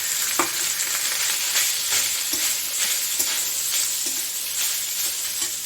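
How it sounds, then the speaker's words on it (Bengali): Steady frying sizzle of rice with gondhoraj lemon leaves fills the pan, with a few soft scrapes and stirs breaking through at intervals; no voices. "এই লেবুর পাতাটা এইরকম ভাজা ভাজা হয়েছে এখন আমি এর মধ্যে আমি ভাতটা দিয়ে দিচ্ছি"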